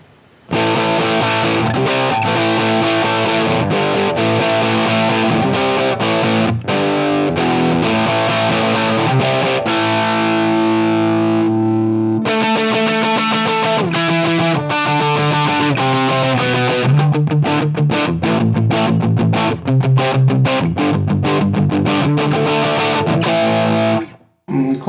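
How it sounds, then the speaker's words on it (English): An electric guitar runs through the Marshall Plexi amp model of a Line 6 Helix, heavily driven and crunchy, playing loud close chords and riffs continuously before stopping abruptly at the end, with no talk over it. "Classic Plexi sound, Marshall Plexi."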